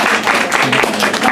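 Audience at a poetry reading night clapping after a poem, a short, fairly loud burst of dense applause in a small room.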